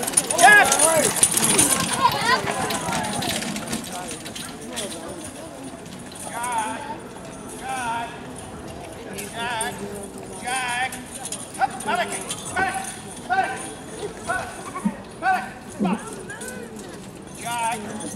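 A horse team pulling a carriage trots through an obstacle at a driving competition, giving faint, uneven hoof clip-clops and rattling harness beneath a commentator's continuous talk.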